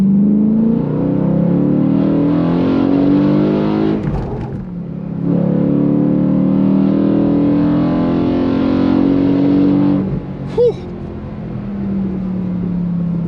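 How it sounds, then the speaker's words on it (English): A 2013 BMW M3 Lime Rock Park Edition V8 engine revs hard on a back road and steadily climbs in pitch, drops briefly as it shifts, then pulls again with a loud, continuous roar. "I mean, this V8 sounds exceptional."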